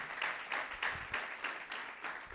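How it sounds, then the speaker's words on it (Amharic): A church congregation claps together in a steady, rhythmic beat of roughly three claps per second, quiet and somewhat distant, with no talk over it. "እግዚአብሔር ይባርክ ስትሉ አጨብጭቡለት።"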